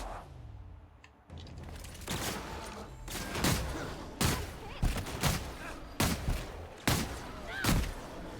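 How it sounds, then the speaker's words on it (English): Shotgun blasts in The Outer Worlds played on hard difficulty, about eight loud booming shots fired in an irregular rhythm with short gaps, each with a sharp attack and rumbling tail, against a quiet ambient background. "Might need to get the shotgun out here."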